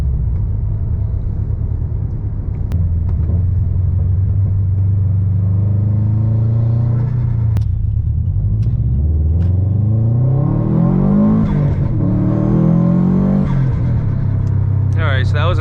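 A stage 2 Subaru WRX STI with stock turbo and front-mount intercooler accelerates at full throttle in sport mode, its engine rumble building into a rising rev sweep with boost and gear changes, loud and close from inside the car.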